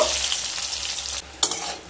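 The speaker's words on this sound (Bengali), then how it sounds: "এবার বেগুনগুলোকে খুব ভালো করে ভেজে তুলে নেব।" Medium-sized eggplant pieces, lightly salted, frying in hot oil with a dense continuous sizzle, close and loud, broken by a brief dip and a sharp stirring scrape near the end.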